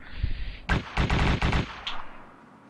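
Gunfire rings out in PUBG, a burst of about five sharp, loud shots in quick succession, each with a brief echoing tail, followed by a fainter distant report.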